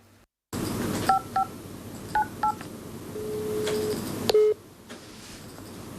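A telephone number is keyed in as a series of short, clean DTMF tones in quick pairs, followed by a longer steady tone, all against a faint background hiss.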